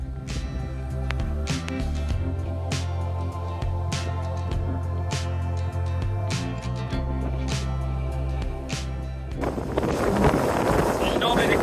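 Strong wind buffets the microphone at Passo di Tanarello, a mountain pass in the Ligurian Alps, a steady rumbling roar with gusty spikes that surges louder near the end, heard alone without talk.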